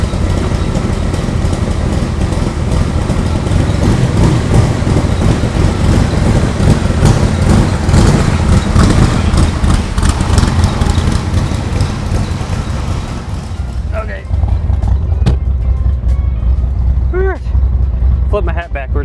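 A car with a 480 cubic inch stroker Cobra engine is warming up, giving a loud, steady rumbling idle close by for most of the time, then a brief change in tone and some lighter clicks and rustles near the end.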